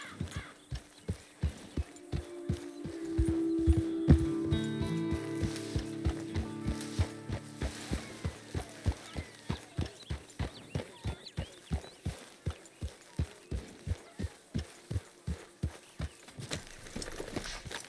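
Horse hooves clip-clop in a steady walking rhythm throughout, close and clear, on a horse in the video game Red Dead Redemption 2, with a brief tonal swell early on.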